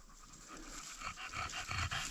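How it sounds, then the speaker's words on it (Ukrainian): Dog panting quickly and rhythmically in forest bushes during a mushroom-picking walk, close and faint, growing slightly louder, with rustling around it. "неслухняний собакін"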